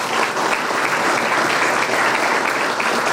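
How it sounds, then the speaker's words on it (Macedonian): An audience at a sports awards ceremony applauds, producing dense, steady clapping with no break, loud and close throughout. "Молам уште еден аплауз за Михаил."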